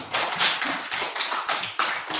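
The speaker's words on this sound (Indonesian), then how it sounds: "terima kasih tepuk tangan" Audience applause at an Indonesian talk for young listeners, a short burst of loud, close clapping in quick uneven waves.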